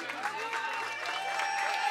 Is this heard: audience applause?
yes